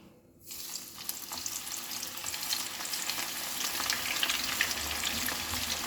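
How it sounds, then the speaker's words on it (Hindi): Cauliflower florets shallow frying in oil in a pan, a steady dense sizzle that starts abruptly after a brief quiet moment and keeps crackling close and loud, with faint stirring clicks and no talk. "इसको थोड़ा सा तेल में सैलो फ्राई करिएगा, ताकि गोभी ऊपर से थोड़ा सा क्रिस्पी लगे लेकिन अंदर से सॉफ्ट रहे"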